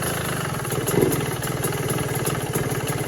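Yamaha YZ125 two-stroke dirt bike, 2021 model in worn condition, running with a rapid, steady engine putter close by, swelling briefly about a second in, no talk.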